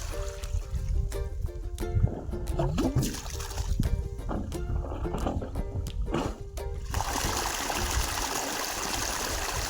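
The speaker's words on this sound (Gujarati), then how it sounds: "આપણી મોટર એને જો શરૂ કરી હા ઉપડી ગઈ પાણી આવશે" A farm motor pump starts up amid mechanical tones and bursts of voices, then water suddenly gushes out in a loud, steady rushing roar for the last few seconds.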